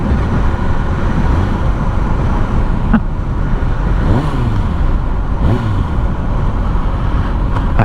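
A Kawasaki ZX6R sport motorcycle runs with a loud, continuous engine roar and a few rising and falling rev sweeps, with wind and road noise mixed in and no talking.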